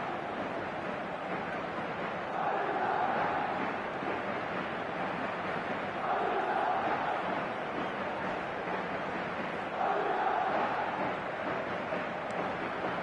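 Stadium crowd roar in a PES football video game after a goal that puts Madrid two goals up, a broad steady wash of distant noise that swells in waves every few seconds, with no talk.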